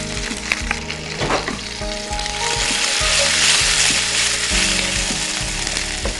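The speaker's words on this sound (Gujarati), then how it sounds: "કેપ્સિકમ અને ઓનિયન એની અંદર એડ કરી દઈએ છીએ, તેલ ગરમ થઈ ગયું છે. સાથે 7-8 કળી લસણ છે એને મોટા ટુકડામાં કટ કરેલી છે એ એડ કરીએ છીએ." Garlic cloves cut in large pieces, capsicum and onion sizzle steadily in hot oil over a high gas flame, a loud, continuous frying hiss with stirring clatter, no voices.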